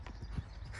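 A horse's hooves thud softly in a rhythmic canter over ground poles during a suppling exercise, a few muffled beats in under a second.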